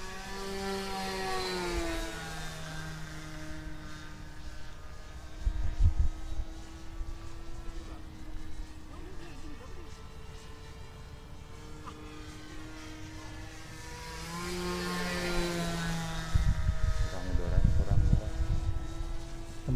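A homemade RC model airplane with an engine and propeller drones through the air in flight, its whine sliding up and down in pitch as it passes nearer and farther, with louder swells and gusty rumbles at the ends.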